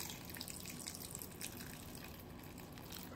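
Water runs steadily into a cooking pot being filled almost to the rim for boiling pig's feet, a continuous splashing stream heard close and alone.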